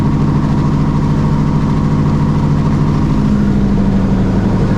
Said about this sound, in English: And then cycle the propeller 3 times.